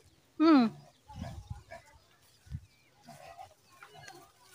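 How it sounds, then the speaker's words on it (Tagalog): A pig on a rural farm near rice fields gives one loud, high squeal, then a few low grunts and snorts close by, with quiet background sounds in between. "Oh, may baboy pala."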